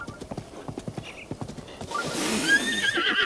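Horse hooves clip-clop in a steady run of hollow knocks in a video game, with a neigh near the end over brighter noise, loud and close.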